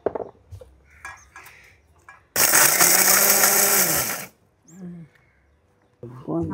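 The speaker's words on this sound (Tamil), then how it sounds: "இந்த சிக்கனை வந்து மிக்சியில் போட்டு நல்லா தூளாக்க போகிறோம்." Mixer grinder pulverising chicken in a kitchen, a sudden loud high-pitched whirring burst of about two seconds that stops abruptly, with someone talking before and after it.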